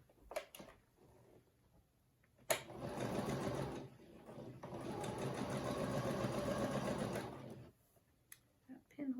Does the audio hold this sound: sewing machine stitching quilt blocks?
yes